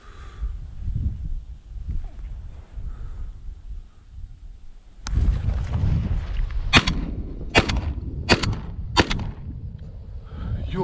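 Four sharp, loud shotgun blasts fired at ducks during a duck hunt over decoys, spaced about a second apart, following a burst of wing flapping and rustle outdoors.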